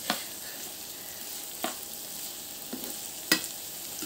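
Onions fry in a pan with a soft, steady sizzle, interrupted every second or so by a sharp scrape or tap of a spatula stirring them.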